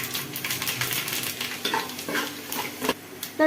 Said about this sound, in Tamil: ஃபஸ்ட்டு வெந்தயத்தை போட்டு பொரிய விட்டுருவோம்